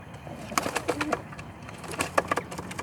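Pigeon cooing softly near a pair of newly hatched chicks, with a few short, low coos and faint bird calls over a quiet background.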